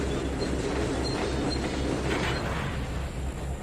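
Train cars couple in the Trainz 2019 simulator, a steady rolling rumble of boxcars on rails with a few light metallic clicks and no talking.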